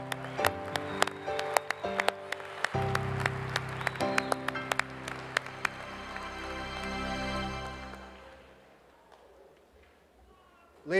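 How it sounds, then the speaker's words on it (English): At a 2014 graduate diploma ceremony, the audience gives scattered sharp claps that build into fuller applause for the graduates. Ringing tonal sound, likely music or a voice, runs underneath before fading near the end. "One more round of applause for the 2014 graduates of the Master of Science in Finance program."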